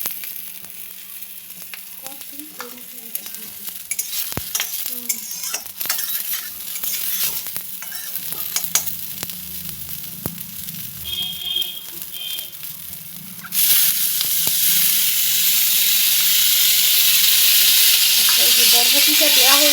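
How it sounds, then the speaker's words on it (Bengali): Spice tempering for sabudana pulao frying in hot oil while being stirred, a steady sizzle with scraping stir strokes that turns to a louder, continuous hiss in the final seconds. "এই যে ফোড়নটা একটু ভাজা ভাজা হবে"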